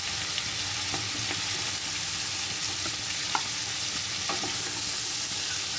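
Prawns, both tiger and giant river prawns, sizzle and fry steadily in a hot pan, with occasional light stirring clinks over a constant dense crackle.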